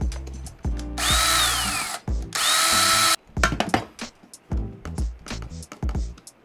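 A power drill drives a screw into a lamp: two loud, sustained whirring bursts with a pitch that shifts as the screw bites, followed by short clicks, taps and handling knocks close by.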